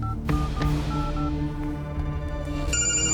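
A telephone on a call plays a repeating electronic ringback tone in a dubbed film scene, steady tonal beeps running throughout, with a brighter beep near the end.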